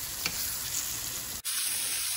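White fish fillet sizzles and crackles in a pan on maximum heat, a steady close frying hiss throughout with a short dip in the middle.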